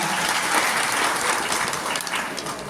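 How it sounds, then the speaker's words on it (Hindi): Audience at a school function hall in Kotli applauding loudly and steadily, a dense unbroken wash of clapping from many hands with no voices over it. "इनके लिए भी जोर से तालियां।"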